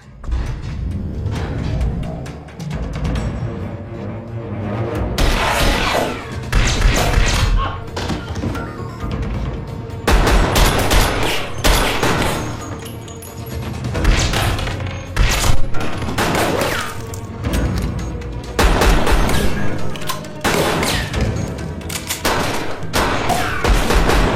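Gunfire in an action film, loud repeated bursts of shots and heavy thuds layered over a dramatic soundtrack, rising and falling in intensity across the scene.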